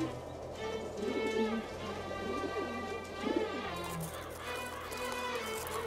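Pigeons or doves coo repeatedly in the arid mountains of Mecca, a steady murmuring call over a continuous droning background.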